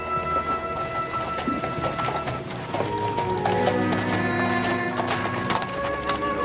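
Hoofbeats of a horse approaching across open ground in a Western ranch setting, a steady clip-clop under a music score, with the rider carrying someone slung across the saddle.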